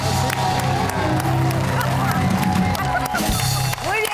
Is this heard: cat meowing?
no